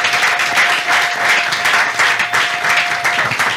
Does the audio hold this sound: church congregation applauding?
yes